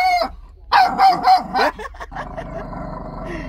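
A dog caught in a weasel trap gives several loud, close, strained barks and yelps, with a brief pause between bursts and a fainter whine near the end.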